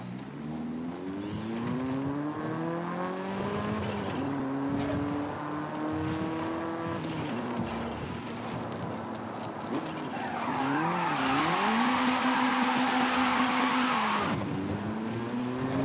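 Nissan Silvia Spec-R 2000 engine in Forza Horizon 5, revving loudly and rising and falling in pitch with popping exhaust bursts and tire skid squeal throughout, with no talking.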